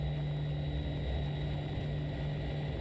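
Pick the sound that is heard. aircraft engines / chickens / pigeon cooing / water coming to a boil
aircraft engines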